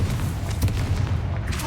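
A Confringo spell blast in Hogwarts Legacy, a deep rumbling boom with a sharp burst partway through, loud and near, trailing off into a low roar.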